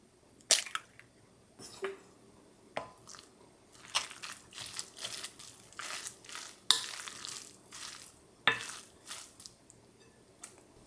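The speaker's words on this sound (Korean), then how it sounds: "다진 양파 70g, 다진 표고버섯 36g, 다진 청양고추, 다진 홍고추, 계란 1개를 넣어 속재료를 골고루 섞어주세요" Chopped onion, shiitake mushroom, green and red chili, mashed tofu and egg being stirred together in a bowl for an onion pancake batter, giving sparse soft squelching and crunching strokes at irregular intervals, close and fairly quiet.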